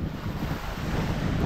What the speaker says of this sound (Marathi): येस फायनली पाण्यात गेली आता आपली बोट.